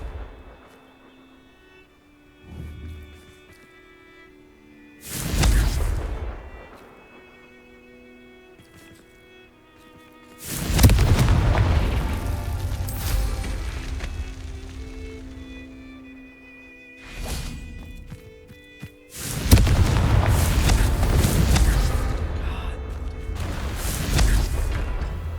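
Confringo blasting spells detonate in Hogwarts Legacy: several loud bursts arrive a few seconds apart, each a heavy boom with a roaring, crackling tail, between quieter stretches of ambient game sound.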